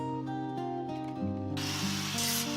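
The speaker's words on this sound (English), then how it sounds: "An angle grinder smooths the new weld" An angle grinder smooths a fresh weld on a rusty farm tractor frame being restored: a steady mechanical whine that turns to a loud, harsh, broadband grinding rasp partway through, continuing close and without talk.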